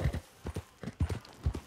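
Horse hooves clip-clop in quick paired beats in the Red Dead Redemption 2 video game, a steady trotting rhythm of about a dozen soft, close thuds with no talking.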